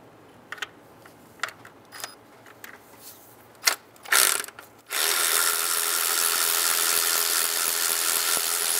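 A ratchet working the valve cover bolts on a Mazda CX-9 gives sparse close clicks and short metallic rattles. A loud continuous mechanical whir then takes over and holds steady to the end.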